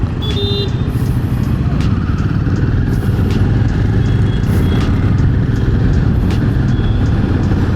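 A Royal Enfield Himalayan 450 motorcycle on a ride, its engine running as a loud, steady rumble with constant wind and road noise throughout.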